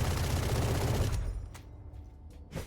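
Valorant gunfire spammed through a wall on the Lotus map, a loud dense stream of rapid shots for over a second, then quieter with a few sharp isolated bangs, no talking.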